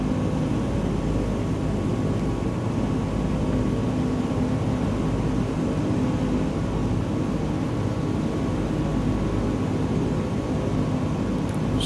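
A small airplane cruises over mountains in Microsoft Flight Simulator 2020, its engine a steady, loud, continuous drone with no breaks and no talking.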